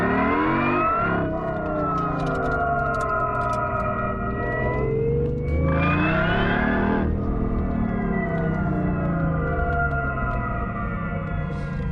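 Synthetic engine sound of a BMW i8 in sport mode, played through an external speaker: a loud, continuous tonal drone with rising and falling harmonic sweeps like revving, with a brief pitch dip in the middle.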